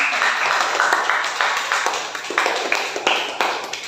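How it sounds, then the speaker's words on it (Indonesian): Students in a classroom applaud a presenting group, a modest patter of clapping with a few sharper claps, fairly close and steady for a few seconds. "Tepuk tangan untuk kelompoknya"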